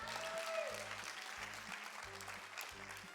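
Applause for a game contestant at a comedy show, a faint wash of clapping from a crowd with music playing underneath.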